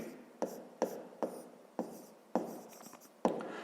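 Pen strokes scratch on paper while someone works through a fifth-grade math exercise by hand, about six short, quiet strokes at a steady pace, close up, with no voices.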